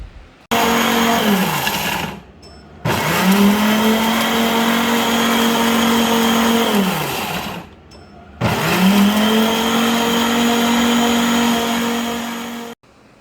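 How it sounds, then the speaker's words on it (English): A power grinder chops dried, shriveled orange peels in three loud whirring bursts. Each burst spins up quickly, holds steady, then winds down into a short pause, with no voices. "So we are using this power grinder to grind the orange peels."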